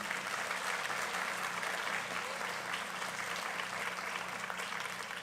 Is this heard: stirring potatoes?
no